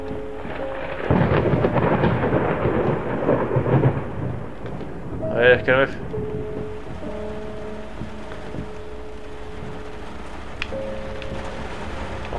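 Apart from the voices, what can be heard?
thunderstorm with rain in video game Layers of Fear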